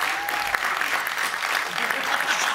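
Studio audience applauding, a dense, steady burst of clapping heard up close for the whole short stretch.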